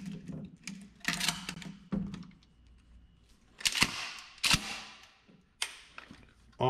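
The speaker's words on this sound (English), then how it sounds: "I'll aim off the target and see what kind of result we get with more pellets in the shot" A shotgun fires number 4 buckshot outdoors, with several sharp, close reports spread over a few seconds and handling clicks and faint sounds between them.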